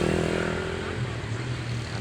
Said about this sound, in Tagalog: So kita niyo na yung mga motor nang agi.